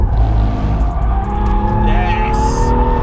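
Car drifting with loud, sustained tire squeal over a roaring engine, close and continuous, with a voice talking over it.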